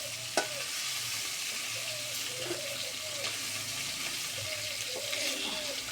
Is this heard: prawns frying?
yes